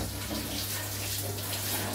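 Water runs steadily from a tap during washing up after cooking, a close, even gushing flow for the whole stretch.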